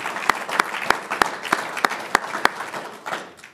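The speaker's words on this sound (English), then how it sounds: "Clap for both of you." An audience at a building dedication claps for two former board chairmen; sharp individual claps land at a quick, fairly regular pace, close and clear, fading toward the end.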